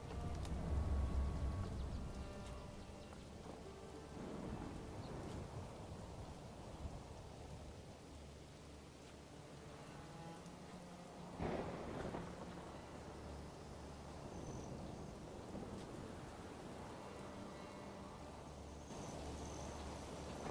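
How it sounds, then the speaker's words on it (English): Rain falling in the medieval village game Manor Lords, a steady soft wash of rainfall with low rumbles of thunder rolling underneath throughout, fairly quiet and continuous. "this is an annoying part when it rains"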